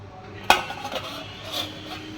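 Dishes and cutlery clatter in a home kitchen during cleaning: one sharp metallic clank, then softer clinks and scrapes close by, with no talking.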